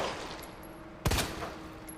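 Gunfire at a zombie in the video game Resident Evil 2, a single sharp close shot cracking out midway through an otherwise quiet game ambience, with no speech.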